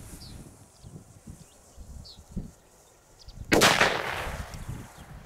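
Outdoors, a Dum Bum Black Edition PB120D firecracker goes off with a single loud, sharp blast after a few seconds of quiet ambience and faint birdsong, its boom trailing off into rumbling echo.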